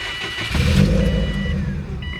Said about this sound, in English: So let me start the car here quick.